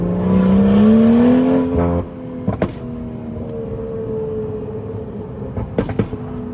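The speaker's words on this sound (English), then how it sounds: "I'm gonna just show y'all a point of view drive of this stage 2 tune" A stage 2 tuned BMW 540i with a B58 engine driving at night, its engine note rising under acceleration for two seconds before easing off, followed by a steady cruising drone broken by a few sharp pops and clicks.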